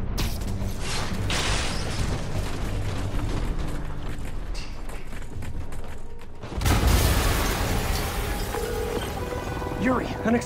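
A big explosion goes off in Marvel's Spider-Man on PS4, a sudden loud boom with a broad roaring blast that follows steady rumbling game ambience and mechanical noise, with no talk over it.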